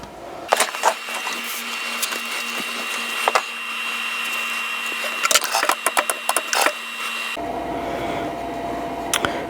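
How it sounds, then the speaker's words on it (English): A sewing machine stitches quilt block pieces together, giving a steady mechanical whir with a hum, punctuated by clicks and knocks, before the motor stops and handling noises follow. "I'll sew these together and we're almost done."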